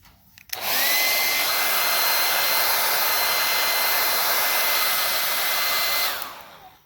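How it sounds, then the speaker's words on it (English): A hair dryer switches on with a click and runs at a steady high-pitched whir for several seconds, close by, heating a rubber sleeve on an RV emergency exit window, then cuts off. "grab the wife's hairdryer when she's not looking, and then heat up the rubber sleeve here"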